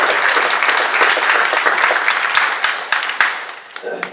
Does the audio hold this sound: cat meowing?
no